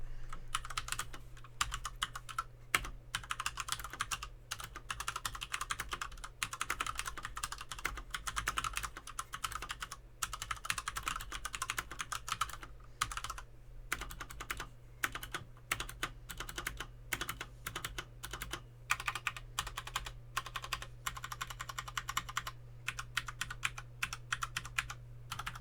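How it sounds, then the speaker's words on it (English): Close, continuous typing on a Cherry MX mechanical keyboard, crisp irregular key clacks in quick succession over a low steady hum. "Really nice sounding keyboard, very, very tactile, really nice feedback as well."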